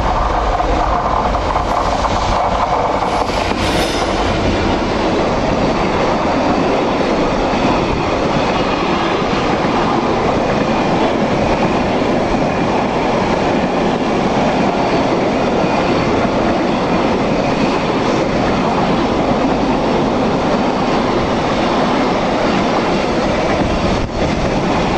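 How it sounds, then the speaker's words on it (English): A long freight train behind a Class 66 diesel locomotive rumbles past close by, with a loud, sustained roar of wagons and rhythmic wheel clatter throughout, no talking. "we soon have a visit by the 4S44 Daventry to Ross End, which is worked by a Class 66 diesel"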